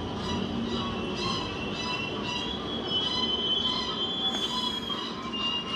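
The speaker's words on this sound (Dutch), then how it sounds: "Daar is de metro die ons brengt naar Hoek van Holland." A Hoekse Lijn metro train arrives with loud, sustained high-pitched wheel squeal over a steady rumble of rolling rail cars, continuous throughout and close by.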